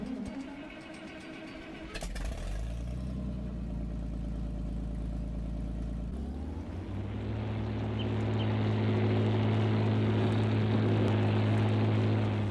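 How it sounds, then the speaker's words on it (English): A Farmall 460/560 tractor engine in Farming Simulator 19 starts with a click, then settles into a low, steady rumbling idle that thickens and grows slightly louder partway through, heard alone without talk. "It's got a nice little rumbling purry sound."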